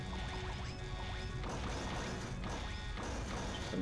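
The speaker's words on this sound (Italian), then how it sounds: "Ci stanno sparando addosso." Gunfire striking the player character in the video game Zack & Wiki, a dense, continuous clatter of impacts and crashes with repeated sharp hits over steady game noise, no talk.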